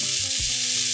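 Pre-cooked breakfast burrito meat hitting a hot pan, giving a loud, steady sizzle that fills the whole moment with a few low thumps of it landing and being stirred.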